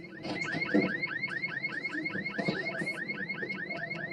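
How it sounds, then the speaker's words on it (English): A car alarm sounds on a parked car in a residential street, with a rapid repeating whooping siren cycling steadily at close range and fairly loud, over faint background noise. "Not again, that bloody alarm"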